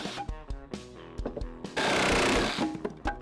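A drill boring homemade pocket screw holes into wood for a gazebo build, sounding as short repeated whirring bursts, then one longer loud grinding run before the bursts return, close to the microphone.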